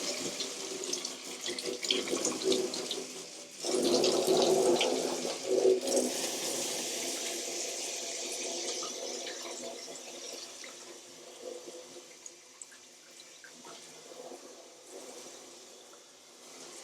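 A shower head attachment runs water into a bathtub, making a steady rushing, splashing flow that swells near the start and then settles into a softer continuous stream.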